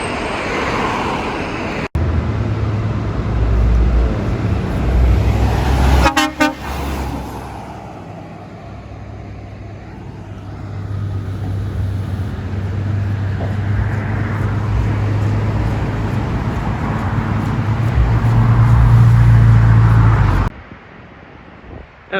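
A Volvo FM truck passes on a road in Sydney, its heavy engine rumbling loud and close with a drone that builds and then fades, over steady traffic noise.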